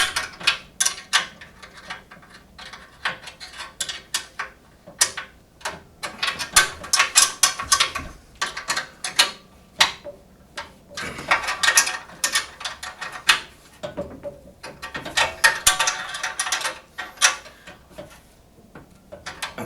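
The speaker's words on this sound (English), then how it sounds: "So I can tighten up all 6 bolts." Six bolts are tightened on the handle of a Hyundai HYT140 petrol garden tiller, giving close repeated ratcheting clicks in irregular bursts with short pauses between them.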